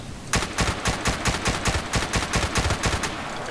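Rapid tap-fired shots from an L85A2/FAMAS assault rifle in Battlefield Play4Free ring out in a steady, even series of about a dozen sharp cracks, close and fairly loud, with no talk over them.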